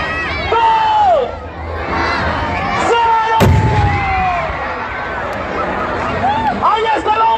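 A human bomb stunt at a Monster Truck show in Mexico sets off one sharp blast midway, with a loud crowd roaring, cheering and whistling throughout and an announcer shouting over them.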